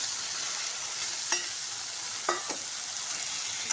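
Fried fish being stirred into masala cooking in oil, a steady close sizzle broken by a few soft scraping strokes of a spoon against the pan.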